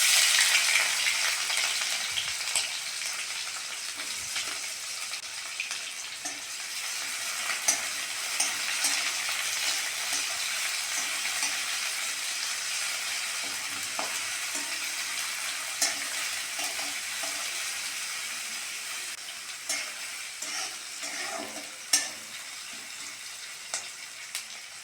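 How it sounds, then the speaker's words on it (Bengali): Chopped onion frying steadily in a pan with whole spices for a vegetarian Bengali pumpkin and greens dish, a continuous close sizzle with occasional stirring scrapes, no voices. "ফোড়নের সঙ্গে পেঁয়াজটা ভালো করে ভেজে নিয়েছি।"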